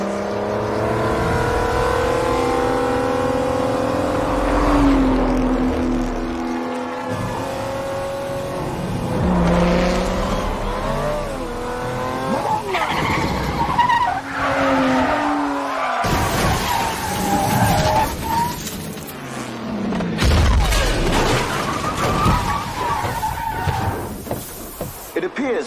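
In a film race scene from Ford v Ferrari, race cars roar and skid with screeching tires and rising and falling engine whines, and sudden crash impacts near the end. An announcer's voice is heard over the loud, continuous din.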